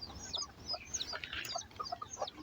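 Chickens clucking and calling nearby in a farmyard, a busy run of short, repeated clucks and squawks from several birds, fairly quiet against faint background noise, with no talk.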